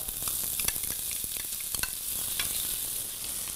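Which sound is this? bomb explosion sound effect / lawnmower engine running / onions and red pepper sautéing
onions and red pepper sautéing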